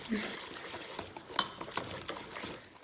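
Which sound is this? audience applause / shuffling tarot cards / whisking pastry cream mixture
whisking pastry cream mixture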